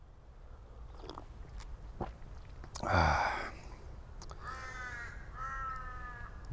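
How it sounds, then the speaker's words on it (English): Crows caw a few times outdoors, harsh rasping calls against a steady background hiss, one loud caw followed by softer repeated ones. "The crows are crowing."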